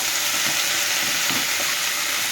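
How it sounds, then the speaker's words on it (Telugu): Moong dal (split yellow lentils) frying in oil in a pan, a dense continuous sizzle and hiss, loud and close, with faint stirring beneath and no talking. "ఇది కొంచెం నూనెలో మగ్గాలని పెసరపప్పు వేసుకున్నాం"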